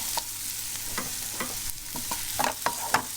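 A spoon scrapes and stirs food around a hot pan, with a series of sharp clinks and scrapes over a steady frying sizzle, close and alone without voices.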